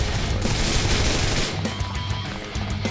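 Rapid close gunfire in the video game Wanted: Dead, a dense loud burst for about a second and a half followed by lighter scattered shots and impacts, with no talk.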